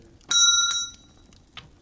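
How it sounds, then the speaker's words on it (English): A bell gives a sharp, ringing clang as a sound effect in an audiobook. Two quick bright strikes ring out loud and close, then fade into silence, followed by a faint third tap. "we heard the sharp clang of the bell"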